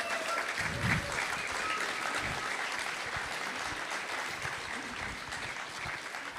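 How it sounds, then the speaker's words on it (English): Audience applause for a guest at an evening interview event in Budapest, a steady dense wash of clapping that holds at full strength for several seconds with no talk over it. "Give a big applause to him,"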